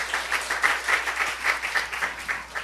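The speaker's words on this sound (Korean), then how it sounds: "우리 하나님 박수 올려드려요" A church congregation claps together in a rhythmic, fairly steady beat, a short burst of moderate, close applause in a Seoul church during a Sunday service.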